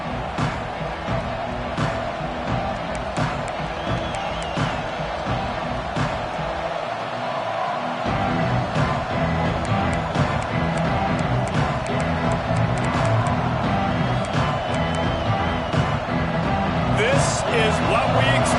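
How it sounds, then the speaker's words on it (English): A large stadium crowd at an American football game roars and cheers continuously around the kickoff, loud and sustained, with a commentator's voice running over the noise. "This crowd ready to make its presence known."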